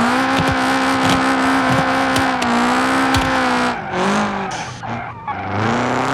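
A car drifting around a racetrack in BeamNG.drive, tires squealing loudly and continuously over a revving engine, the screech wavering and breaking up near the end.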